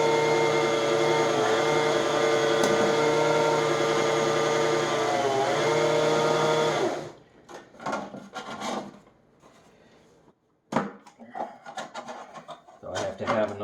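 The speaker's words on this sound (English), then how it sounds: "here's the scrubbing action" A Koblenz P820B carpet shampooer runs loud and steady with a constant motor drone for several seconds while scrubbing carpeted stairs, then cuts off, leaving scattered handling knocks and rustles.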